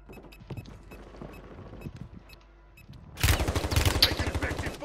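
Gunfire in a first-person video game shooter: scattered faint shots over quiet background at first, then a loud sustained burst of rapid automatic fire in the final seconds.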